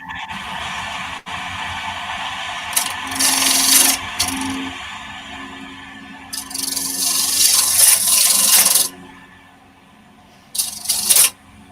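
Wood turning on a lathe, with a cutting tool scraping and shearing against the spinning wood in loud, rough bursts of several seconds each, broken by quieter pauses where the motor hum carries on.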